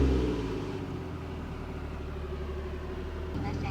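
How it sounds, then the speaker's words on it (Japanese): A Toyota JZX100 Cresta Roulant-G engine turns over and settles into a steady idle, a close, low continuous rumble with a brief shift near the end. "じゃあエンジンかけてみましょうか。"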